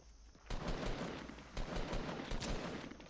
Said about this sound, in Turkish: silah sesleri var